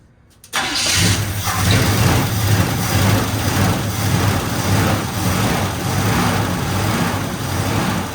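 Chevy Blazer engine cranking briefly, then catching and settling into a steady, rumbling idle, close and loud throughout.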